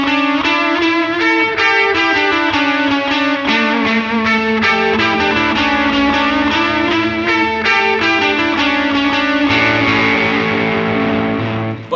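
Electric guitar played through a delay pedal set to about four repeats, with distortion and a chorus-like shimmer, sustained notes trailing off into echoing repeats, loud and continuous with no talking.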